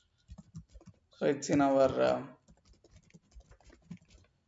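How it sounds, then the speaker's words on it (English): Light, irregular clicks from typing on a computer keyboard come before and after a short spoken phrase, staying soft and close. "So I am typing the URL for the download link."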